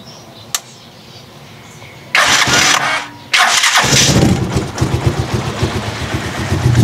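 A vehicle engine fresh from an oil change with Petron Blaze oil cranks and starts with an abrupt roar, dips briefly, then settles into a loud, rough, noisy run close by, with no talking.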